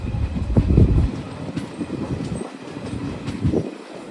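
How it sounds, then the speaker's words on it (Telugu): Villupuram Intercity Express train running after leaving Pakala, a loud close rumble of wheels on track with clattering thuds and brief bursts of heavier noise, no voices. "సో పాకాల నుంచి బయలుదేరింది కదా మన ట్రైన్"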